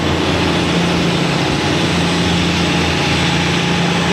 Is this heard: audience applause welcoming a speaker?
no